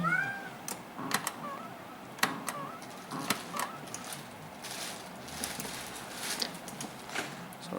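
A cat meows a few times, faint and intermittent, under clicking and tapping sounds beside an arcade cabinet.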